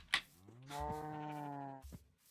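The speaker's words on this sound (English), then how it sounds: "Oh, that's a cow. No. Cow with horns." A single drawn-out low from a horned cow in a video game, loud and near, holding steady for about a second, with a brief clunk before it and another after.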